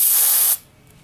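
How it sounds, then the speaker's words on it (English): A single short hiss of aerosol cleaner sprayed into the threads of a drive shaft barrel, lasting about half a second, then quiet. "And then do the same with the barrel, just spray into the threads."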